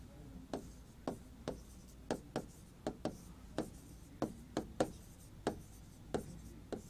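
A pen or pencil writes by hand in an even rhythm, each stroke a crisp, close tap or scratch over a steady low hum. No one speaks.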